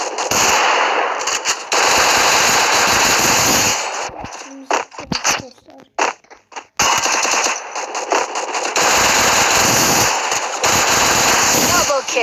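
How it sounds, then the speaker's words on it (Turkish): Rapid automatic gunfire from a machine gun in the mobile shooter Free Fire rattles loud and close in long sustained bursts, broken by a stretch of scattered single shots before the fire resumes. "Taramalı silahla"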